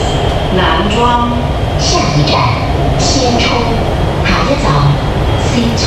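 Interior of a moving subway train with a loud, steady rumble and intermittent squeals, while an announcement voice speaks over it.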